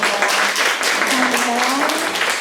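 Audience applause for children who read aloud at a Children's Day press event in a Daehangno theatre café, a dense steady patter of many hands, with a voice speaking over it partway through.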